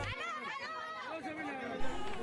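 Dense chatter from a pilgrim crowd at a Vaishno Devi yatra checkpoint, many overlapping voices close by, continuous and lively with a brief louder bump.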